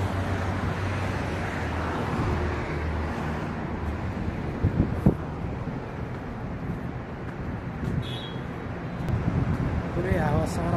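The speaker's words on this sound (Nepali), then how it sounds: "पुरै हावा सरर चलिरहेछ टक्क पारामा।" Strong wind blows along the Corniche seaside in a constant, heavy roar that buffets the microphone, with a low rumble beneath and a few brief, faint sounds in the background.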